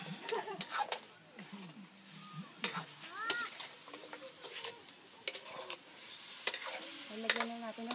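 Tinola stirred in a pot at a cooking challenge in Guinobatan, with a continuous sizzle under repeated scraping stirs and clanks, and voices talking intermittently nearby.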